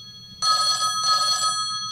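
A theater telephone bell sound played from a Raspberry Pi rings in two clear bursts, loud and close, over a low steady hum.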